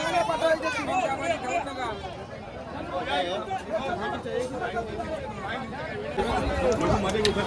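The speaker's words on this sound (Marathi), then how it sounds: "बघा किती गर्दी" A huge crowd of pilgrims gathers at Pandharpur on Ekadashi near the Chandrabhaga river ghats. A dense, continuous babble of many nearby voices and footsteps fills the air, and a person talks close by within the hubbub.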